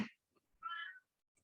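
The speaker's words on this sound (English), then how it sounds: "I apologize for my loud cat meowing in the background" A single short meow from an old cat sounds faintly in a quiet room, preceded by a brief click.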